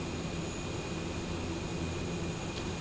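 Steady droning turboprop engine of a Shorts 360 in the Prepar3D flight simulator, a continuous loud hum with a constant tone and no change over the short stretch, with no speech.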